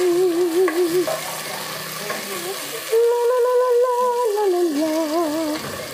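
Chopped tomatoes sizzle and hiss in a hot frying pan as a spoon stirs them, a steady close fry with scraping strokes over a continuous background whine.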